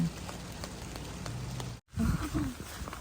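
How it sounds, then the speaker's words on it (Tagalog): Steady heavy rain in Regina, Saskatchewan pours down with a constant hiss, briefly cut off by a short silence before resuming, with faint low rumbles mixed in. "Ang lakas ng ulan."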